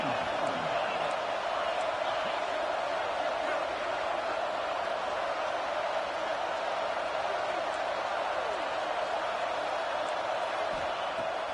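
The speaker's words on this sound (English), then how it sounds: "This crowd bringing the energy and noise early." A large stadium crowd at a college football game in the video game NCAA 26 roars in a constant, dense wash of cheering and murmur that holds steady throughout, loud and enveloping.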